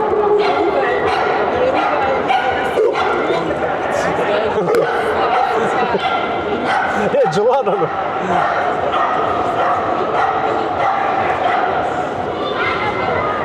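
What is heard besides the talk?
dogs barking, including pit bull terrier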